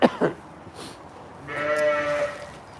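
Two short sharp bleats from a newborn lamb, close by, then a longer wavering ewe's bleat after a pause, in a lambing shed.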